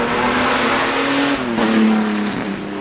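A 1912 Lorraine-Dietrich Grand Prix car at a Goodwood Festival of Speed run, its engine a loud, continuous low drone with shifting pitch as it holds and rises in revs, heard close.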